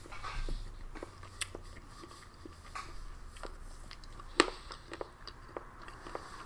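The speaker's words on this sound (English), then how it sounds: "And that's me crunching away on the chips." Chips are crunched while eating, giving quiet, close, irregular bites and chewing crunches with a few sharper cracks over faint background noise.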